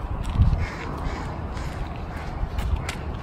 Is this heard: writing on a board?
no